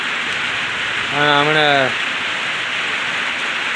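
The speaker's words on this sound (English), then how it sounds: "But it started raining on me." Steady rain falling outdoors, a constant close hiss of drops on surfaces that runs throughout, with someone briefly speaking over it partway through.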